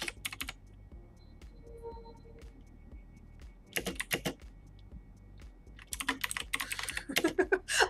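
Fast typing on a computer keyboard during an online typing race, bursts of rapid clicking keystrokes separated by pauses, close and clear over a faint steady background hum.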